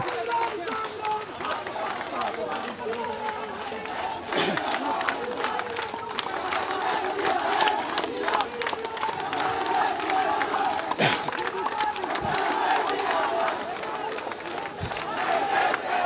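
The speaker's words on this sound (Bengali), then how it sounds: "তারা তাদের দাবিতে বিভিন্ন ধরনের স্লোগান দিচ্ছেন" Thousands of Jagannath University students protesting at the gate of the Bangladesh Secretariat, a dense crowd roar of chanted slogans rising and falling steadily throughout, loud and continuous, with a few sharp knocks standing out.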